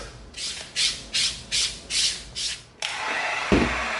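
EVA foam sanded by hand with 320-grit sandpaper: six rhythmic back-and-forth rasping strokes, close and crisp, followed by a steady continuous scrubbing hiss.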